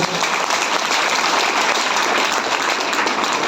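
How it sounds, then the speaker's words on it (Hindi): Steady, dense applause from a seminar audience, loud and sustained throughout with no pauses. "एक बार तालियां बजा दें"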